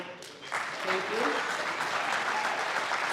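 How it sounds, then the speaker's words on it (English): Crowd applause swells at a hall of fame reveal ceremony, a dense, loud wash of clapping that rises after a brief quieter start and holds steady, with voices faintly mixed in. "Hold the applause."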